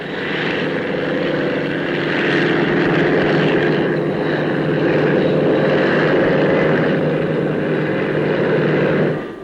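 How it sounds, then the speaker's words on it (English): A Westland Wessex anti-submarine helicopter flying at the Farnborough air show, its steady droning engine and rotor noise loud and sustained, swelling slightly as it passes, with no talking. "The Westland Wessex, in production for the Royal Navy, is a very advanced anti-submarine helicopter."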